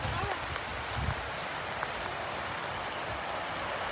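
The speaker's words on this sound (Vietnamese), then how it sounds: "Mưa to quá" Heavy rain pours steadily in a garden setting, a dense continuous hiss of drops on surfaces with low rumble beneath, close and fairly loud throughout.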